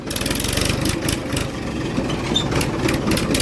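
A tractor engine runs close by on the way to a field, a steady rhythmic chugging with a low pulsing throb that stays loud throughout, with no talk over it.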